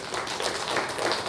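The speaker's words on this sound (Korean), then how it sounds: "우리 격려의 박수 하겠습니다" A church congregation applauds during a Sunday worship service: a steady, dense patter of many hands clapping together, filling the room evenly for the whole moment.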